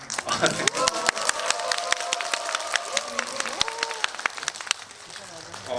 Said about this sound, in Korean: 제가 오늘 태어나서 가장 많은 박수를 받는 것 같아서